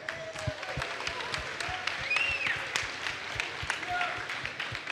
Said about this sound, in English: So please, a big round of applause for a Blizzard representative.